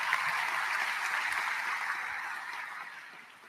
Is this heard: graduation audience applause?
yes